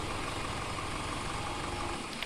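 A farm vehicle engine idles in Farming Simulator 17, a steady, even low rumble that holds without change for a couple of seconds.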